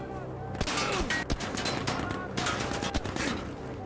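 Suppressed sniper rifle fire in Battlefield 5, several sharp, clipped shots at irregular intervals, close and fairly loud amid battlefield ambience, with someone talking in between.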